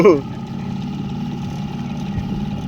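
An old boat engine chugs steadily at idle, a low continuous throbbing rumble after a brief louder burst at the start.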